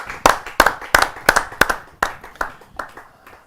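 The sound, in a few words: audience applause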